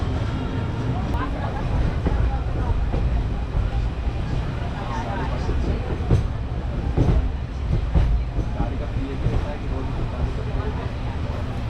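A train running on rails toward Sanchi, a continuous low rumble with rhythmic clacks and rattling carriage noise, fairly loud and steady throughout with a few sharper knocks.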